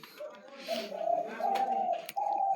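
Pigeons or doves cooing in a backyard aviary while their food and water are changed, with steady repeated coos close by and some light chirps in the background.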